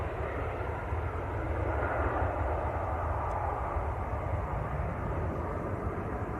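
Emirates A380 airliner at Manchester Airport on the runway, heard as a steady, broad, distant jet engine roar with a low rumble that holds evenly throughout, with no voices.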